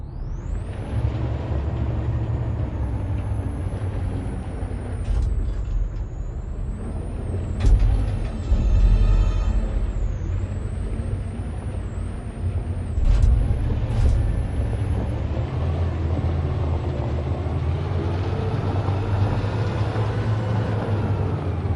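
Truck engine in the video game Detroit: Become Human drones steadily for the whole stretch, a loud, low rumble with high mechanical whines and hissing bursts like air brakes.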